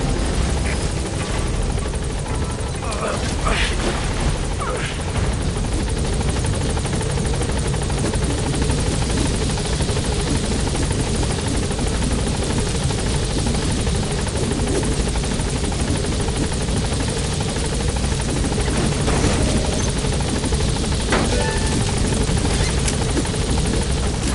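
A helicopter in the video game Metal Gear Solid 5 drones loudly and steadily throughout, with a constant rotor and engine roar and no pauses, the sound close and dominant.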